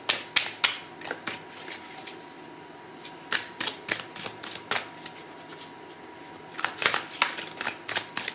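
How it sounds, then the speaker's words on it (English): Tarot and oracle cards are shuffled in quick, crisp riffling bursts, with close, papery flutters coming in repeated rhythmic runs and brief pauses between them. "We're going to start with your tarot here, and then we'll open up these oracle cards."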